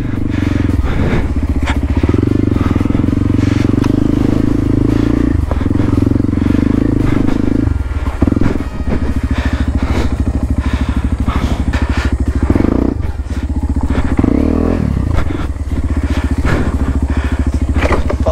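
A dirt motorcycle labors loudly up close over a rocky Philippine trail, its engine revving and surging continuously while scattered thuds and clatters mark the underside striking stones.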